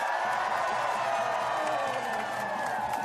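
An outdoor political rally crowd roars and cheers continuously, a dense sustained wash of voices and whoops that holds loud throughout.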